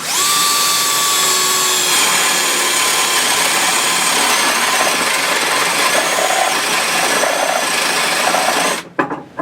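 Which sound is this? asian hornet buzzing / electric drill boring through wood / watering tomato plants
electric drill boring through wood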